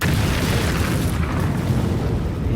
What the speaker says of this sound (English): Ahora explotaba.